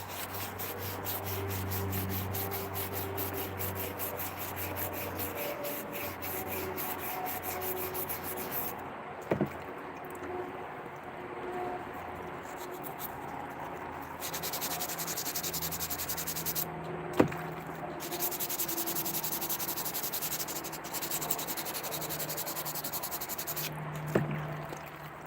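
Slings being sanded by hand, a steady rubbing scrape running continuously at moderate level through the whole stretch, with occasional small knocks and shifts.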